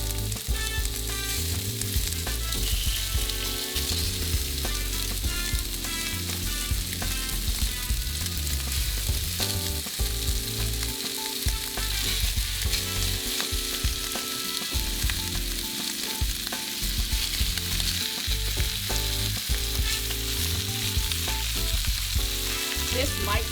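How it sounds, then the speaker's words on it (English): Steady, loud sizzling of beef frying in a crowded pan for beef stroganoff, a dense crackling hiss that runs continuously with occasional stirring scrapes and no talk. "You want to hear it sizzle."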